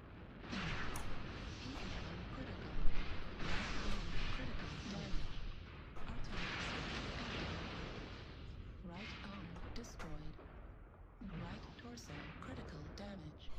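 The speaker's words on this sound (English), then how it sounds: "Artillery strike online." An artillery strike in a mech combat game brings repeated loud explosive bursts and crashing blasts in waves, layered under a synthetic announcer voice and steady battle noise.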